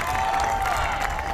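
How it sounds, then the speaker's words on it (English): A large crowd at a Trump campaign rally in North Carolina applauds and cheers in a dense, continuous roar, loud and unbroken throughout. "that's a very impressive applause you got"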